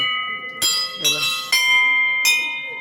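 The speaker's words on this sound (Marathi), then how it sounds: "आता घंटा वाजत" A large temple bell at the Khandoba temple in Mulgaon, Badlapur, rings with four loud, close metallic strikes, each leaving a sustained ringing tone, as people talk in the background.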